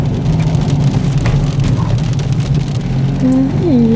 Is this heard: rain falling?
yes